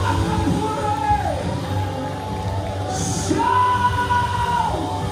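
A church congregation shouts and whoops together in long, loud rising and falling yells, a large crowd cheering in unison close by.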